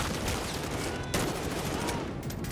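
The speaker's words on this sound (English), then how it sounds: "I think I just shot Farah right in the face" Dense gunfire in the video game Call of Duty: Modern Warfare, continuous loud shots and impacts filling the whole short stretch with no pause.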